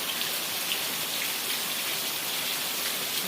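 Heavy rain pours down over a village in a steady, dense hiss of drops hitting surfaces, loud and unbroken throughout with no voices.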